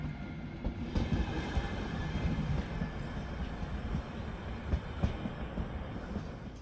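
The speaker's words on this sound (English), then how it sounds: "this Czech Vectron locomotive is now heading off to Krakow in Poland via the Czech Republic" A Czech Vectron electric locomotive pulls out of a Vienna station, a low rumbling rail roll with faint clicks and clanks of wheels over track, moderately distant and with no talk.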